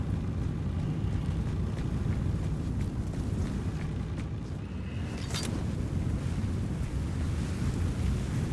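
Fire hose spraying water in the firefighting game Firefighting Simulator Ignite: a steady, loud, broadband rushing hiss that continues without a break for the whole stretch, with no voices over it.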